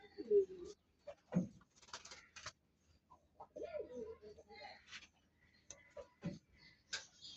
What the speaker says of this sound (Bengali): এই 3 জোড়া মিলি কবুতর বিক্রি করা হবে।